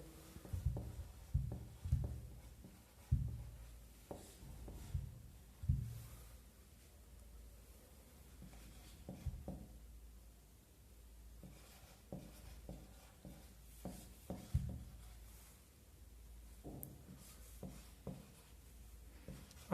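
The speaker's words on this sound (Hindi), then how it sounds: "मैं 2-3 संख्या और लिख देता हूं।" Numbers are written by hand, probably with pen on paper, making quiet close scratching strokes in irregular bursts with short pauses between them.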